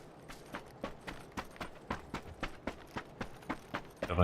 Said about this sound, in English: Definitely heard footsteps over there